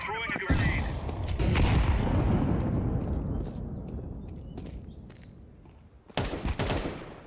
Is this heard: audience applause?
no